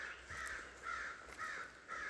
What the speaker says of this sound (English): But you can hear some crows